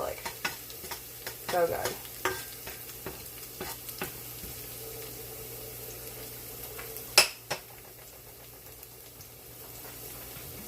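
Garlic frying in a pan gives a soft, steady sizzle under repeated scraping and stirring clicks, with one sharp utensil clank near the middle and a brief spoken remark.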